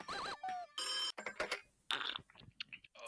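Electronic telephone rings and chirps sound in a Five Nights at Freddy's fan video game, a quick run of short, bright, synthetic tones broken up by other choppy game noises.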